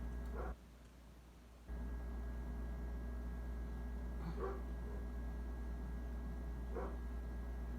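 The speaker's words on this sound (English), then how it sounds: "out there barking at something" A dog barks a few times at a distance, separate short barks spread apart over a steady background hum.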